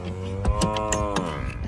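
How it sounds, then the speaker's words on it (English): A single drawn-out animal bray with a harmonic, wavering tone, close and clear, sounding alone. "Little donk actually sounded off again."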